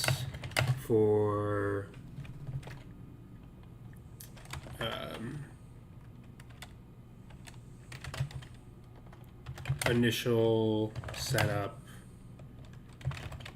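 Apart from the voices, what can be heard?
typing on a computer keyboard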